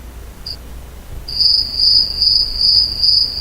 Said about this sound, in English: We have crickets